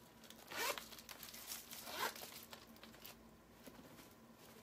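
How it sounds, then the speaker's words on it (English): A zipper on the front pocket of a new gray crossbody bag with gold hardware, pulled in two quick rasping strokes about a second apart, close and fairly quiet, followed by faint handling noise. "a zipper pocket here"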